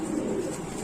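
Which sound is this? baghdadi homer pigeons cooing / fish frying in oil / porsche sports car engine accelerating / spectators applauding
baghdadi homer pigeons cooing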